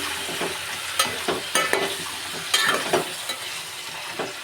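Vegetables cooking in a pan, with steady sizzling broken by repeated stirring scrapes and clatters at close range, no voices.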